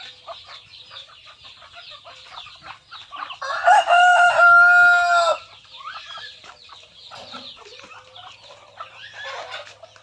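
Rhode Island chickens in a backyard coop, a rooster crowing loudly once over steady clucking and chatter from the flock, fairly close.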